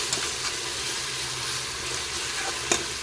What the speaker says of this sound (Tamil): இஞ்சி பூண்டு பேஸ்ட் வாசனை நல்லா பச்சை வாசனை போகிற வரைக்கும் நல்லா வதக்கிக்கலாங்க